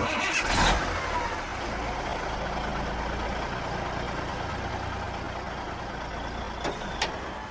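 A lorry pulls away and drives off as a sound effect in a spoken story, a low steady engine rumble with a brief clatter at the start, fairly quiet and receding.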